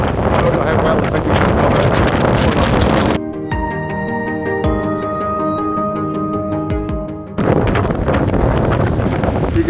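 Strong wind on a mountain ridge in Glen Lyon, Scotland, batters the microphone in loud roaring gusts, easing briefly in the middle before surging back.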